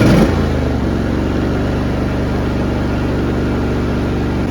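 A John Deere lawn tractor engine runs steadily while mowing grass, a loud, close, even mid-pitched drone that holds constant after a brief opening surge, with no talking.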